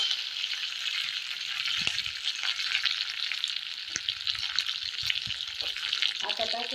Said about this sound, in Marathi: परत एकदा आपण जिऱ्याचा तडका देऊ, मोहरीचा तडका देऊ.